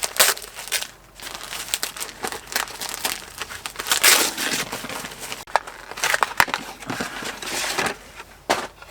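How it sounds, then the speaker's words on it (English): Festive wrapping paper crinkles, tears and crumples as a present is unwrapped, close and loud in irregular bursts of rustling for the full stretch. "Ooh, pretty wrapping paper."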